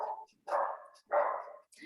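A small pet dog, a female, gives about three sharp, close barks in quick succession, with brief silent gaps between them.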